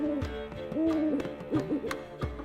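A pet parrot in The Witcher 3 squawking and warbling, a series of short pitched hoots and whistling calls, close and clear with no talking.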